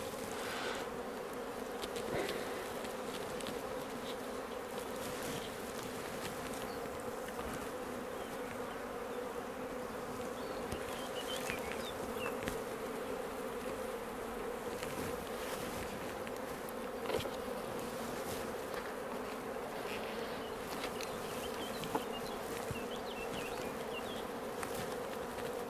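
Steady, dense buzzing of a honeybee colony, a continuous droning hum with occasional individual bees zipping close by.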